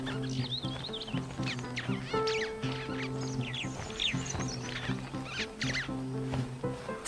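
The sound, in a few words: flock of gregarious birds squabbling while foraging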